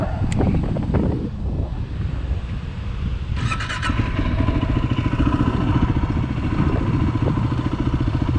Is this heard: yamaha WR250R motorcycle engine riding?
yes